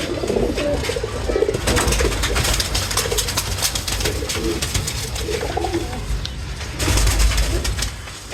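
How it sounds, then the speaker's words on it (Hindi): An old-breed pigeon coos repeatedly in soft, low bursts, close by in a loft setting, with light rustling and background noise throughout. "वो बताएं कि ये कौन सी ब्रीड से ताल्लुक़ रखता है ये कबूतर"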